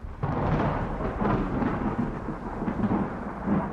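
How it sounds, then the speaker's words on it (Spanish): A thunderstorm rumbles steadily, a loud, deep, continuous roll of thunder with rain noise beneath, filling several seconds without any voices. "Los truenos sacudían las ventanas y el viento aullaba como si el bosque quisiera devorar la estación."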